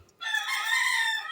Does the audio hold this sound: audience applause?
no